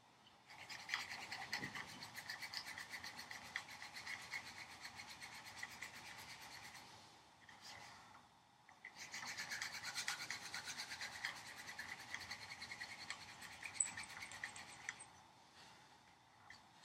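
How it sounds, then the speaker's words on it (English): Small drill bit boring holes into a wooden jewelry box, a steady dry rasping whir that runs for several seconds, pauses briefly, then resumes; fairly quiet, close, with no talking. "It's drilling the holes just fine."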